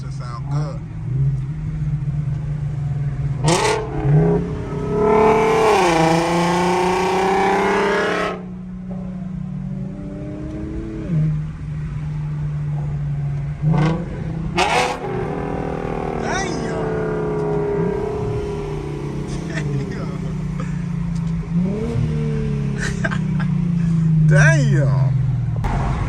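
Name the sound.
Infiniti G37 engine revving with muffler delete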